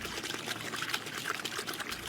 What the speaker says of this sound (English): the sound of running water in a drought-parched landscape is from burst pipes